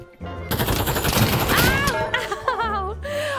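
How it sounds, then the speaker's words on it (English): Shotgun fire in a VR video game played in a haptic suit: loud, dense bursts of blasts and crashing game effects over about three seconds, with a voice shouting briefly near the end. "That was a shotgun."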